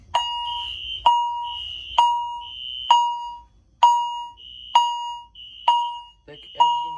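A fire alarm system under test after a hallway pull station is activated sounds a steady series of loud, evenly spaced electronic horn blasts about once per second, alone in an indoor corridor.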